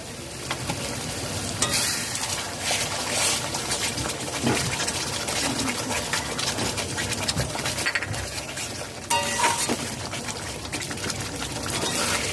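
Hot water poured into cooked-down masala for Afghani malai seekh kebab gravy, a loud close sizzle and bubbling with stirring scrapes, steady throughout with brief louder bursts, no talk.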